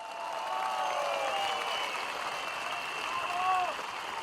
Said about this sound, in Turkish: Kartal'a yüzünü dönenleri, bu muhteşem geceyi yayında verenleri, haberini yapanları bir yürekten alkışlayalım.